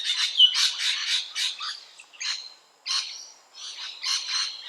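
Rainbow lorikeets, Australian parrots, giving shrill high-pitched screeching calls in rapid overlapping bursts, loud and close with brief gaps between flurries.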